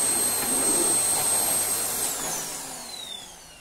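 A Miele C3 Powerline vacuum cleaner runs on a floor, a loud close steady whine with a high tone that drops away as the motor winds down in the last second.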